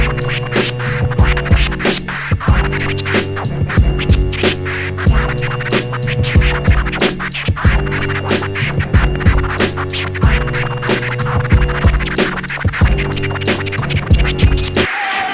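A DJ scratching a record on a turntable over a looping beat, with rapid rhythmic back-and-forth scratch strokes repeating steadily for the whole stretch, loud and close with no voice.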